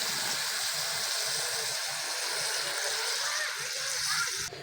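Water gushes and splashes steadily into chilli and turmeric powder frying in a pan, a continuous close, loud hissing pour with faint sloshing underneath.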